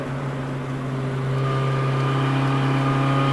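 A car engine on Highway 276 through Pisgah National Forest revs high near the top of third gear, a steady droning tone with strong harmonics that builds slightly louder, heard from inside the car without talk.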